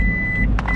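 A car reversing, its low engine rumble running steadily beneath a thin, continuous high tone, close and fairly loud throughout.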